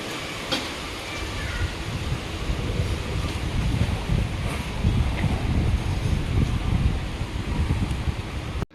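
Strong wind roaring outdoors during a storm, with rain adding a steady rushing wash; loud and continuous for the whole stretch, with no voices.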